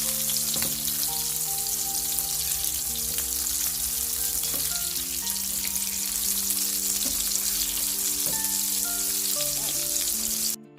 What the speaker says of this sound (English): Now we're gonna flip our tomatoes.